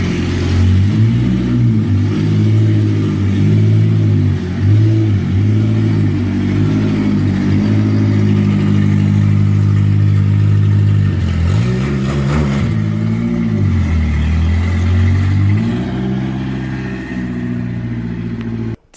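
A BMW E30 with a swapped-in Honda F20c engine and factory limited-slip differential revs and drives, a loud, continuous engine drone rising and falling in pitch, heard up close with no talk.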